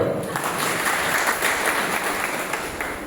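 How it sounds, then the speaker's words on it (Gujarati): An audience at a village gathering at a retreat center in Rajkot claps together, a dense, steady burst of applause close by that runs throughout and fades slightly at the very end. "એમની માટે તાળી પાડો"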